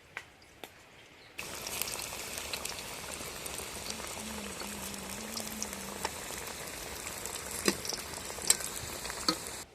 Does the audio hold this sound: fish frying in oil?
yes